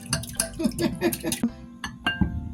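A whisk clinks quickly against a glass bowl holding salt and cracked pepper, giving a brisk run of bright metallic taps that slows to a few scattered clinks.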